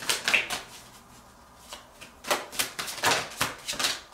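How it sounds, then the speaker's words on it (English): A deck of cards is shuffled by hand in short, crisp riffling bursts with brief pauses between them, close and fairly quiet, with no talking. "I'm going to do one more shuffle."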